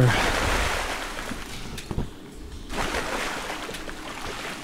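Water from the video game Black Mesa, set in the Xen area: a steady broadband wash like surf or rushing water fills most of the stretch, briefly dropping away in the middle before swelling back, with no talk over it.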